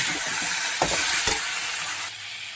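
Lentils and tomato being sautéed in a pan for khichdi, a steady bright sizzle with a few stirring scrapes, then easing slightly quieter near the end; no voices.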